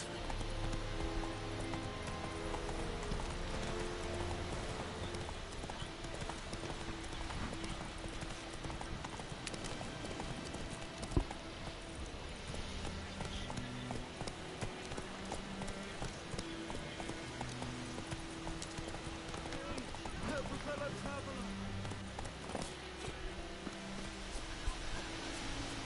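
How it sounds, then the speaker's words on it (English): Steady clip-clop of horse hooves trotting continuously over a busy game soundscape with music, no talking. "So I can just spawn my horse out of nowhere."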